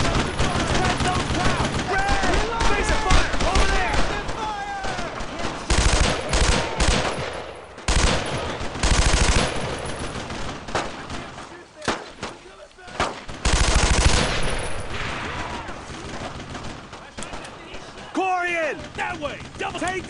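Gunfire in the World War II video game Brothers in Arms: Road to Hill 30, with dense bursts of rifle and machine-gun shots and explosions over battle noise while soldiers shout orders throughout.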